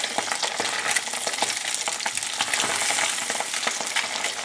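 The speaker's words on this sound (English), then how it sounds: "once you get them in the pan" Branzino fillets sear in avocado oil in a very hot cast iron skillet, giving a loud, steady crackling sizzle with dense popping spatters throughout, no voices.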